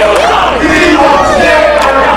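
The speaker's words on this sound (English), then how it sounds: "The crowd is chanting, "We want Shaver."" A loud wrestling crowd at an SPW Showdown show chants in unison, a dense roar of many voices filling the hall with a rising and falling cadence and no commentary over it.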